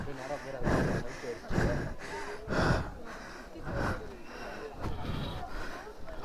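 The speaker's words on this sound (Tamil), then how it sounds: "சரியாக மூச்சு வாங்குதுடா கண்ணா" Heavy, rhythmic panting after a climb up to the ancient Karla Caves near Lonavala, with loud, close breaths arriving in repeated gasping bursts.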